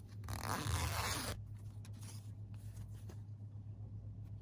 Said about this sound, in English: We'll unzip the zipper